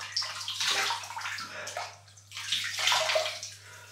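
Water splashes and runs at a bathroom sink or tap while a face and a shaving brush are wetted, two bursts of close, loud splashing with a brief lull between them.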